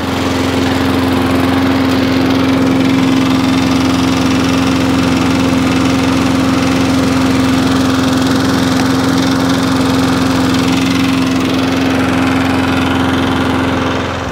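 Previously faulty lawn mower engine running steadily after repair, a loud, close, even drone with a constant pitch that holds without change throughout.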